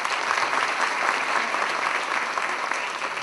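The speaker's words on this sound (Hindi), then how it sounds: "इनके लिए प्लीज ताली बजाएं।" A live audience claps steadily for Abdullah at a Peace Through Compassion workshop and inauguration ceremony, a dense, even wash of applause filling the room without a break.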